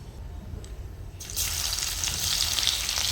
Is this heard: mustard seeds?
yes